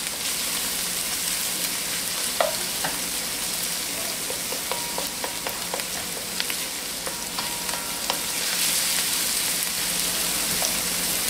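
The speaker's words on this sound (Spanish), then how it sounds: "Que se dore un poquito ahí junto con la cebolla." Ingredients browning with onion in a pan for Cuban congrí give a steady, close frying sizzle with scattered crackles and pops throughout.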